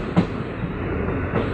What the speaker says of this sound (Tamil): இப்போது பாம்பன் வந்து ரயில்வே பாலத்துக்குள்ளே ட்ரெயின் வந்து இறங்க போகுது.